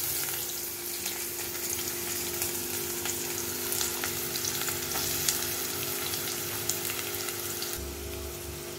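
Chopped onions go into hot oil already crackling with mustard seeds and curry leaves, and a dense, even sizzle of frying fills the whole stretch, loud and close with no talking.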